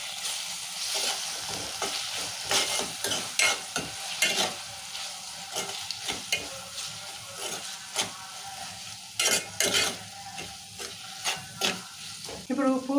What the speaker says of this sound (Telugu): 1 నిమిషం ఇట్లా కలుపుకుందాము.